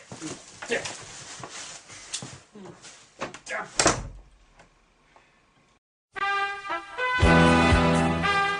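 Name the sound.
door banging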